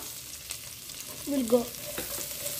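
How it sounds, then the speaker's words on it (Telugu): Chopped onions frying in a kadai for chicken biryani give a quiet, steady sizzle with a few soft stirring scrapes in the middle, close by and fairly faint, without speech. "ఇప్పుడు 1 కప్పు ఆనియన్స్ వేస్తున్నాను."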